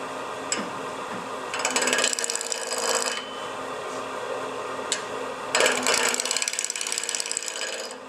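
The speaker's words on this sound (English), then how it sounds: "I'm going to be starting my roughing. Where is it? With a 3/8 bowl gouge." A 3/8 bowl gouge roughs a wooden bowl blank spinning on a lathe, with a continuous whirring hum broken by bursts of harsh, scraping chatter as the tool bites into the wood.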